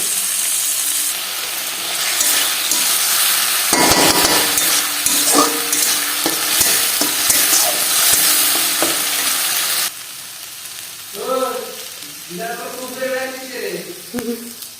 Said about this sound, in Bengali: এর মধ্যে পেঁয়াজ রসুন আদার যে পেস্টটা বানিয়েছিলাম সেটা ভালো করে ভেজে ভেজে নেবো